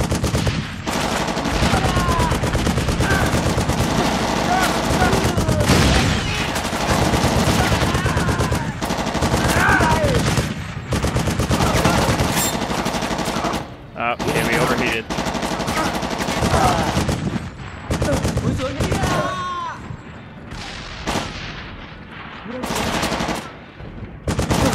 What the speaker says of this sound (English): The game decided to just kick me off the machine gun.